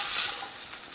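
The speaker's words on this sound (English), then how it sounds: "throw in our garlic, and we're going to cook that for about 30 seconds more." Garlic sizzles in a hot pan alongside onions and shallots, a steady, close frying hiss that stays even throughout with no talking.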